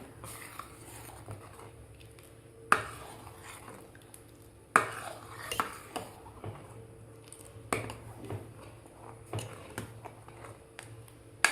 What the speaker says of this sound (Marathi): साबुदाणा आणि डाळ शिजवून घ्यायची आहे. एकसारखं याला हलवत राहायचं आहे